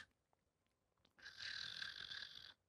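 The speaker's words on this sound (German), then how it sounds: "Darauf hört man einen schnarchenden Hund." A Labrador dog snoring while dreaming, played back from a recording: one sustained, breathy snore rises after a near-silent second, holds steadily for about a second and a half, then stops abruptly.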